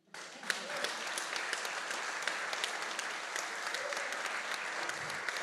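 Applause from the audience at a university entrepreneurship innovation challenge final, steady and dense crowd clapping that holds at an even level for the whole stretch, starting abruptly with no talking over it.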